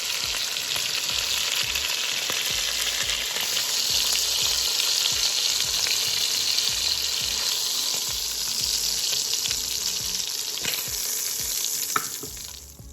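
Beef short ribs sear in a hot pan over medium-high heat, giving a loud, continuous sizzle and crackle with occasional clicks and scrapes as the meat is turned, and no voices.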